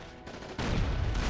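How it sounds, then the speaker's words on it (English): Machine gun fire in the World War II video game Big Red 1 rattles on in a continuous burst, quieter at first and then abruptly louder and heavier, with no voices over it. "Machine guns have infinite ammo in this game, but fire them for too long and they overheat."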